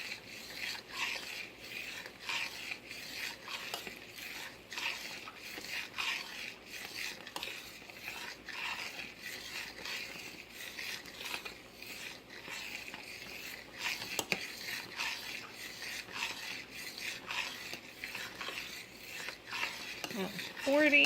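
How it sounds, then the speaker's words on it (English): Boiling homemade strawberry jam is stirred steadily in a saucepan, a soft continuous rasping and scraping of the spoon against the pan that stays fairly quiet and even with no talking. "And you are going to stir continually."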